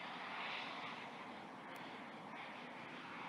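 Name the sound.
E-Flite F-16 model jet flying low over runway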